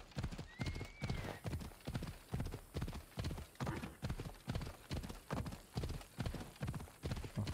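Rhythmic galloping hoofbeats of a horse being ridden in Assassin's Creed Odyssey, steady and close, with a brief whinny early on.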